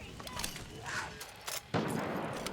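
Gunfire from the video game Far Cry 6 sounds as scattered, fairly faint shots and bursts with a sharper blast near the end, set against low game ambience.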